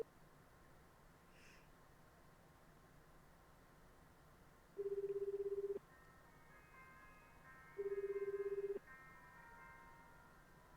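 A phone ringtone plays in clean electronic tones, two sustained beeps about a second long separated by a few seconds of quiet, followed by the start of a third, over a faint hum.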